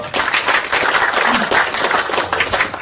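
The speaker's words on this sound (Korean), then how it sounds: "자, 박수 좀 부탁드리겠습니다." Loud, close applause from the audience at a committee's activity report meeting, many hands clapping in a dense, continuous burst that stays strong from start to finish.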